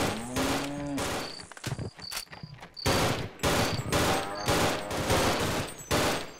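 Repeated gunfire from a weapon in the horror shooter They Hunger, a steady run of loud, close bursts over a low game drone, with some creature-like moaning early on.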